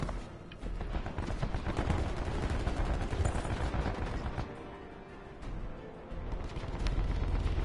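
Sustained gunfire rattles through a multiplayer shooter video game match, with dense overlapping shots and bursts filling nearly eight seconds at steady loudness, easing briefly near the middle before picking up again.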